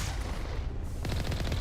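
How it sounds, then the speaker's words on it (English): Rapid gunfire from enemy snipers in the video game Mass Effect 1, a loud, dense burst of repeated shots firing in quick succession with a flurry of sharp cracks in the second half. "God, they sniped me from super far away"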